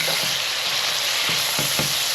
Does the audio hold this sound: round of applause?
no